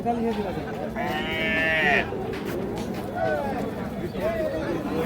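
A cow lows at a busy cattle market, one long drawn-out moo followed by shorter ones, close by over crowd murmur and people talking.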